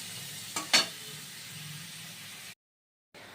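Onions with salt frying gently in a pan over low heat, a soft, steady sizzle with a brief clatter early on, then a sudden cut to silence before the sizzle returns.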